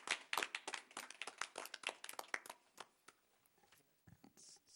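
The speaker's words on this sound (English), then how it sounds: "we need to give them a round of applause" Clapping from the audience at a Franklin Township, New Jersey council meeting, with a quick burst of sharp hand claps that thins out into scattered, fainter claps over a few seconds. No one speaks over it.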